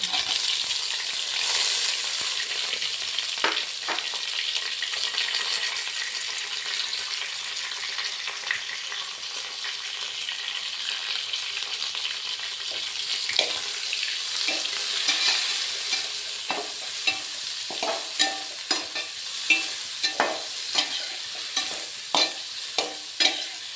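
Onions sizzle steadily in a hot pan for cauliflower masala, with a spoon scraping and stirring in irregular clacks that grow sharper and more frequent toward the end; no voices.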